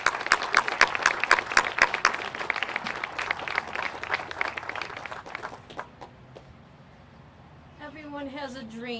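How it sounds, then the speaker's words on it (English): A crowd applauds outdoors at a 9/11 memorial groundbreaking ceremony in Newton, a lively patter of clapping that thins out after several seconds before a voice begins speaking. "if we could give one more rousing applause to"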